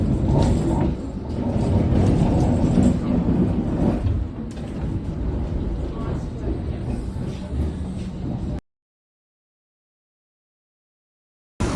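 Steady low rumble and rattling of a moving train from London to Brighton heard from inside a carriage for several seconds, then sudden silence, with no clear talking.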